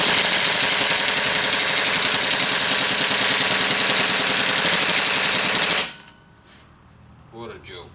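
Earthquake half-inch composite air impact wrench with twin hammer and extended anvil running in reverse, a loud continuous rattling hammer burst for several seconds that cuts off abruptly, followed by quiet handling noises.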